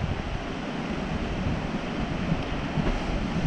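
Ocean surge rushes through a rock channel at Cape Perpetua's Spouting Horn, a steady broad wash of surf mixed with wind buffeting the microphone.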